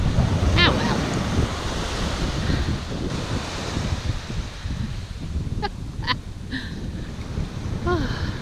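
Surf rolling onto a beach in Brittany under steady gusting wind, a continuous loud wash of waves with wind buffeting the microphone and faint scattered voices.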